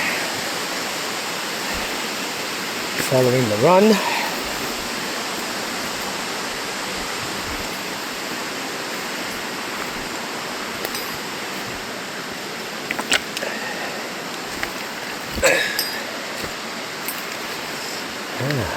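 A waterfall in a canyon gives a steady, moderate rush of falling water throughout, with a voice speaking briefly over it and a few scattered knocks.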